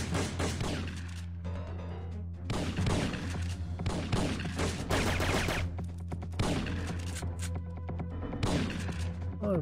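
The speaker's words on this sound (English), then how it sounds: "it's the rebel shooting at me" Rebel gunfire in the video game Syphon Filter 3, repeated bursts of rapid shots in several clusters separated by short gaps, loud and close over a steady low hum.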